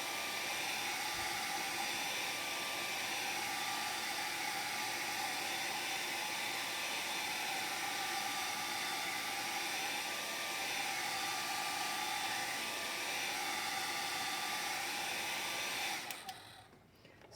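Steady, loud whir of a hair dryer blowing across a wet-into-wet watercolor cloud painting, running alone without interruption for about sixteen seconds before switching off abruptly.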